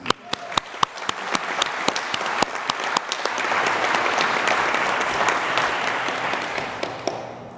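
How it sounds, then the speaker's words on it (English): A graduation convocation audience breaks into applause: a few sharp individual claps at first, then a full crowd joins and the clapping swells into a loud sustained roar before easing slightly. "I think you all deserve a big round of applause."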